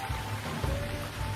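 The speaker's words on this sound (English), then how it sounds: "She watched the rain get heavier." Steady rain hisses across a broad wash of noise, dense and continuous, with a low rumbling undertone throughout.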